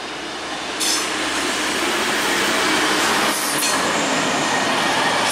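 A train rolls into Würzburg Hauptbahnhof, a loud, steady roar of wheels on rail with brake and wheel squeal rising as it enters the station, close by and continuous with no talk.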